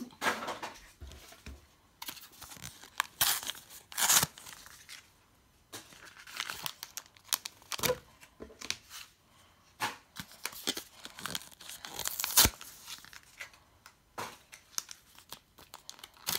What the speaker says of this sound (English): I'm gonna go ahead and rip these open so I can take them out.